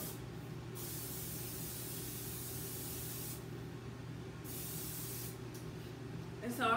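Cooking spray hisses steadily onto a cake pan for a pound cake, a long continuous spray with a short pause midway, close and fairly quiet over a low background hum.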